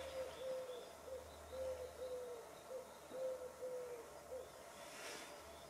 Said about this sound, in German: Der Uhu ist auch da, nicht der Kleber, sondern der Vogel.